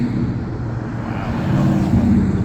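A classic Ford Mustang rolls through a Route 66 classic car gathering in Seligman, Arizona, its engine a steady, loud low rumble that swells slightly as it nears.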